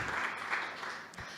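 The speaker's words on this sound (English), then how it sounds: "Give us a round of applause for Tech Systems" Brief applause from a meetup audience, a soft spread of clapping heard from a distance that fades within a second or two.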